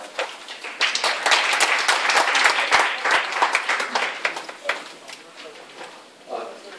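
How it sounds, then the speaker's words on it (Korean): An audience at a Korean IoT pilot project presentation applauds to welcome a presenter from the National Information Society Agency, a dense wash of clapping that swells, holds steady, then thins out near the end. "큰 박수로 맞아주시기 바랍니다"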